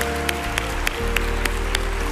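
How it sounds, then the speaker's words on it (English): A church congregation claps together during a sermon, a steady wash of applause with a few sharper hand-clap peaks, fairly close and continuous under a low background hum. "Those who are seated, will you applaud for those who labor for their living? Go on and applaud for them."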